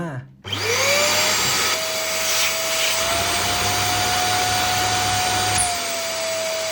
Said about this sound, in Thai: โดยเราจะใช้เครื่องดูดฝุ่นนะครับ ในการดูดน้ำออกมา